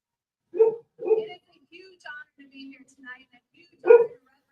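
Small dogs barking indoors at home during an NHL draft livestream: two quick sharp barks, a few softer yips and whimpers, then one more loud bark, close to the microphone with no talk over them.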